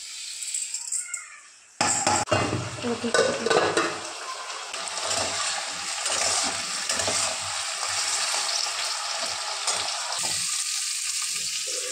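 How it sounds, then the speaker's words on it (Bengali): Roasted dalia poured into hot water in a cooking pot, then stirred, giving loud bubbling, hissing sizzle and spoon scraping against the pot throughout. "এবার এই ডালিয়ার ডালটা যে ভেজে রেখেছি এটা দিয়ে দেবো জলে।"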